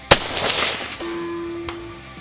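Single Ruger American Predator rifle shot with Hornady 147g ELD ammunition at a range, a sharp loud crack followed by a fading echo, then a brief electronic beep and a faint distant impact sound.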